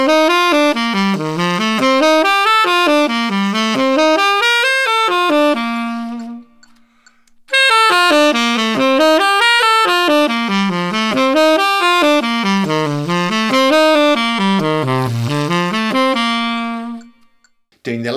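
Saxophone runs the major scale in ninths, quick leaping intervals climbing and falling in zigzag patterns, loud and close, played twice with a brief pause between passes and no talking.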